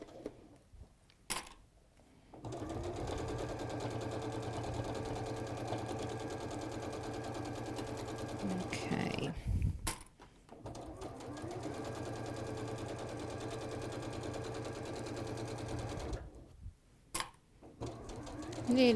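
A sewing machine runs in two long continuous bursts, stitching around the edges of a fabric bag, with a steady mechanical whir and short pauses between runs.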